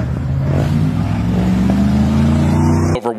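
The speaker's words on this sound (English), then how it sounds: "Over 100 cars prepared to head over to Isla's house and rev their engines as they passed her home one by one" Several car club cars rev their engines loudly nearby, a sustained rising roar that cuts off abruptly near the end.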